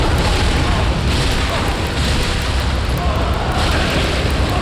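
A fire attack erupts in the Dark Souls III boss fight against Aldrich, Devourer of Gods, a loud, dense roaring blast that rumbles steadily without a break.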